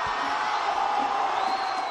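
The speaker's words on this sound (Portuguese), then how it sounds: "veio o grito de alívio" Brazilian football fans in a crowd in the city centre roar and shout in celebration after Casemiro's late goal against Switzerland at the World Cup, a steady, dense cheer with whoops that lasts throughout.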